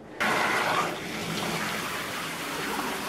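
A shower switched on suddenly, its water gushing loud and close, then settling into a steady hissing spray that runs on without a break.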